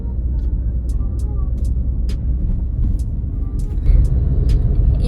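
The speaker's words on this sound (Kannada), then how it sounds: "ಇವಾಗ ಕಾರಲ್ಲಿ ಹೋಗ್ತಾ ಇದ್ದೀವಿ" A car cruising at night along an empty city road near MG Road, a steady close engine and tyre rumble throughout with a slight swell near the end.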